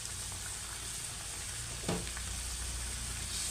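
Spice paste for snakehead fish bhuna frying in a pan, a steady soft sizzle throughout with one brief louder stir or scrape near the middle, no voices.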